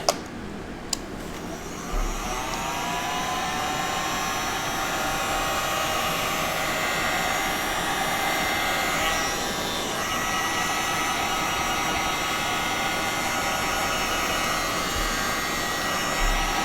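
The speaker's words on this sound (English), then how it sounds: "so I'm going to hit this with the heat gun a little bit" A heat gun blows steadily over a gold leaf art print, a loud, continuous close-up roar of rushing air that holds nearly unbroken throughout.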